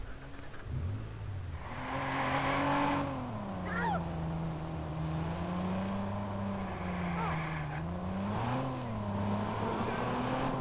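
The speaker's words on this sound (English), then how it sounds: "I guess we'll just take this car then." Car engine in the video game Watch Dogs, a moderate hum that rises and falls in pitch as the vehicle drives and revs, fairly steady and somewhat quiet, with no one talking.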